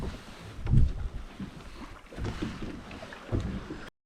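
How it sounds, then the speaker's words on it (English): A new Suzuki outboard engine runs on a boat out on Loch Ryan, a steady low rumble with wind buffeting and water slaps rising and falling around it, no talking. "out testing his new engine"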